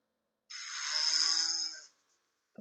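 A snoring sound effect in a comic game: a single long, rasping, hissing snore breath lasting over a second, loud and close, followed by a short quiet sound.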